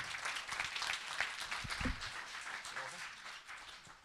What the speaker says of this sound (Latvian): Lūdzu, aplausi.